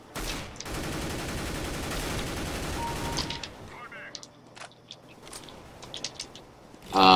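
Video game gunfire: dense, loud automatic shooting for about three seconds, followed by scattered single shots and clicks at lower level, ending in a sudden loud burst.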